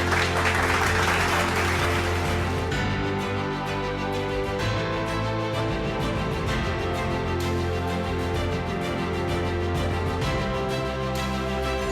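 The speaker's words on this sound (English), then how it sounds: "please keep your applause going" Sustained applause from an audience at a business excellence award ceremony, steady and loud for the whole stretch, mixed with music playing underneath.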